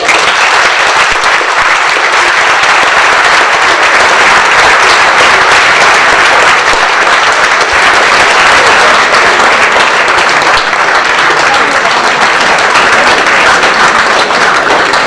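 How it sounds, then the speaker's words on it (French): Loud, sustained applause from a large crowd, a dense steady roar of many hands clapping that carries on without pause. "Je crois qu'on peut l'applaudir très fort."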